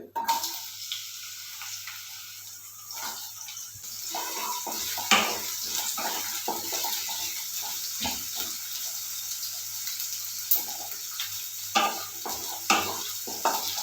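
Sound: onions frying in a pan for egg rice

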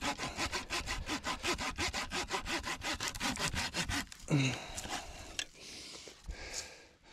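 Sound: saw cutting wood

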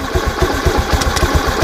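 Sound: motorcycle engine revving

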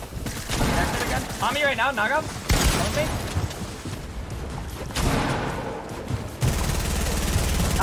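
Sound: gunfire in the video game Fortnite

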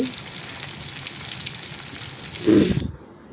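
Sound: frying fish in oil

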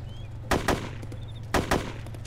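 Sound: gunfire in ARMA 2 video game

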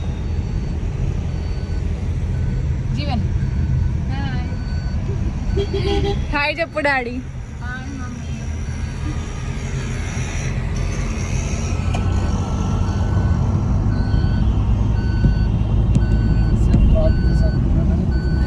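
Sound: heavy road traffic with trucks and reversing beeps

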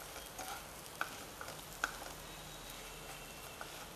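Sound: stirring and frying chapati chivda in a pan

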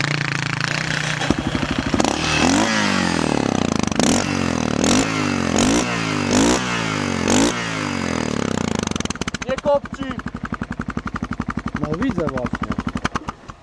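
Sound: Yamaha TTR 600 motorcycle engine starting and running

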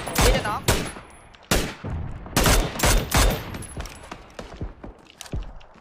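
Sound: gunfire in PUBG video game, shooting at a vehicle

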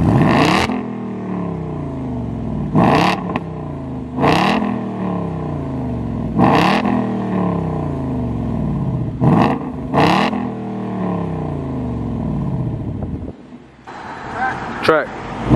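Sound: 2019 Ford Mustang GT with X-pipe exhaust revving

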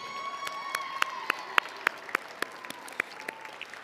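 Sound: audience applause and cheering

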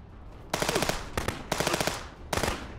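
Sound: gunfire in video game Contraband Police

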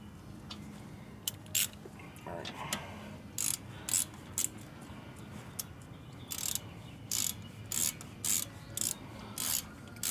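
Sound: hand ratchet tightening bolts on Toyota Highlander brakes

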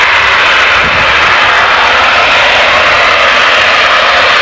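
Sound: gas compressor station blowdown venting through an opened valve

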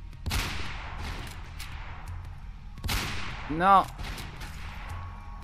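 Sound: sniper rifle gunfire in Mirror's Edge (video game)

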